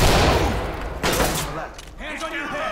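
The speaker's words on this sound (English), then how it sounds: "Got more shots fired." Gunfire rings out in the tactical shooter video game Ready or Not during a hospital shooting incident, with a loud opening burst, another sharp shot about a second later, and trailing echoes while voices speak.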